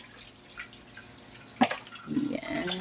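A weak trickle of water runs from a household faucet into a sink, with faint drips and splashes that swell toward the end, with no talking.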